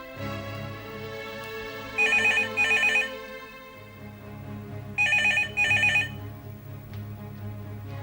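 A telephone rings in two double bursts of electronic trilling, separated by a pause, over a quiet room tone with a low hum.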